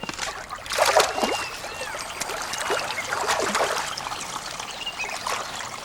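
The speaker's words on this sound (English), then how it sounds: "Crops are totally dependent on meltwater channeled from the snows above." Snow meltwater trickling and gurgling through irrigation channels in high-mountain crop fields of India, a close, continuous babbling flow with small splashes and no voices.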